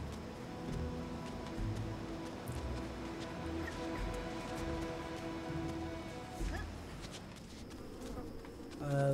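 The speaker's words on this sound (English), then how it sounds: "There's fucking bees somewhere." Bees buzzing in the video game Submerged, a steady droning hum with a faint rain-like patter mixed in, moderate and continuous without talk.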